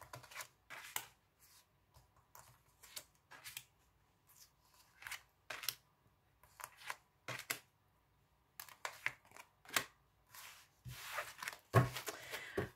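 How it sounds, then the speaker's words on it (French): Tarot cards are spread across a table for a reading, giving a run of soft papery swishes and brief slaps at an uneven pace, close by and fairly quiet, with no talking. "On va étaler les cartes et on va faire votre tirage général."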